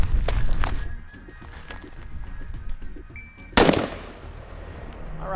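A single sharp handgun shot fired at a headshot target from 5 yards on a range, one loud crack with a short decay, following quieter rustling and handling noise, with no voices.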